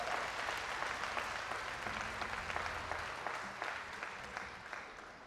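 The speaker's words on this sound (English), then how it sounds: "Give yourselves a round of applause, all the family members, the students." Audience applause fills a completion ceremony for career and technical education students and their families, a steady wash of many hands clapping at moderate loudness that slowly tapers off over several seconds.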